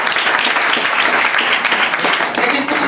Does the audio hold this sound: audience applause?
yes